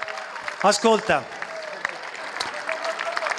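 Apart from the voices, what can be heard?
crowd applauding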